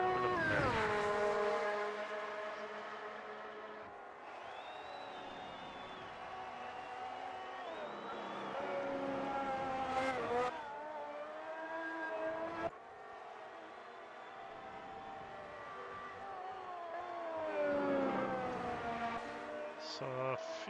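Formula 1 cars at Monza in the racing game Automobilista 2 (AMS2), a loud, continuous high-pitched engine whine with rising and falling revs as the cars accelerate and shift, alongside commentary talk.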